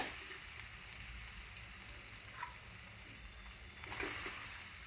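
Potatoes frying in a pan with ginger-chili-garlic paste and turmeric for a Gujarati green potato curry, giving a steady broad sizzle with a couple of brief clinks, close and moderately quiet, no speech.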